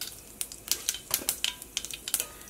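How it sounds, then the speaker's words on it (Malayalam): Half a teaspoon of mustard seeds crackle in hot oil in a pan, giving a quick run of sharp, dry pops and spits at an irregular rhythm against a quiet background with no talking. "ഇനി ഫസ്റ്റ് നമുക്ക് ഇതിലേക്ക് കടുക് പൊട്ടിക്കാം"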